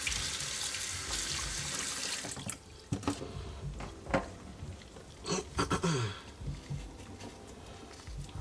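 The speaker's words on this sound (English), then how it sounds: "Wash the Irish potatoes and peel them" Irish potatoes being washed under a running kitchen tap: a steady hiss of flowing water with splashes, knocks and scrubbing handling noises breaking up the stream, close by and with no talking.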